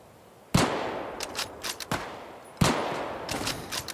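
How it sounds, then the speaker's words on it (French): Gunfire from shooting at AI enemies in the multiplayer survival game Deadside: two loud, sharp shots about two seconds apart, each trailed by a long echoing tail, with a few fainter cracks in between. "et je tire sur des IA"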